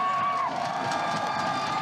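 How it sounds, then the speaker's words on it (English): A Pittsburgh home crowd at a Legends Football League game cheers and shouts loudly and steadily from start to finish, with whoops rising above a dense roar and no one speaking. "this Pittsburgh crowd starting to get on this Omaha offense"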